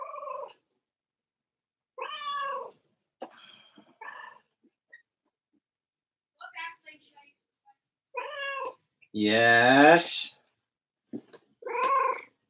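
A pet cat meows several times indoors, close and clear, with short calls spread across the clip and one longer, louder drawn-out meow near the end; a person speaks briefly between the calls.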